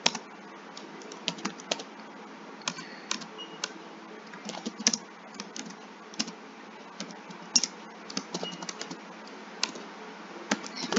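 Typing on a computer keyboard to delete text: steady, close clicking with irregular single taps and quick runs of keystrokes throughout, with no speech.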